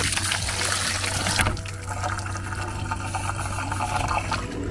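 Water from a hose or tap pours steadily into a campervan's water tank at a French campsite, a continuous close rushing trickle, with a louder splashy burst at the start that then settles into an even flow.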